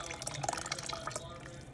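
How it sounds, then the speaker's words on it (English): Coconut milk glugging and splashing as it is poured into a pot of mushroom soup, a close, fairly quiet liquid pour lasting under two seconds. "time to add in the coconut milk."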